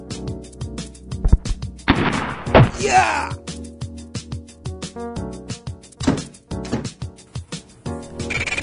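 Gunfire from villains aboard a ship in an animated superhero cartoon, with several loud, sharp shots and thuds over a music score, plus a whooshing impact near the middle.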